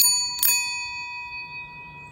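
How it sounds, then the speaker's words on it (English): A Lucas King of the Road bell on a 1933 New Hudson City Gent bicycle rings with two quick strikes close together, then a long clear metallic tone that rings on and slowly fades. "Lucas, King of the Road bell."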